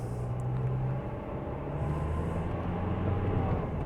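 Nissan X-Trail 2.2 dCi diesel (T30, 2003) with an accelerator fault code, its engine droning steadily and loud while driving, a continuous low rumble with slight rises in pitch and no voices.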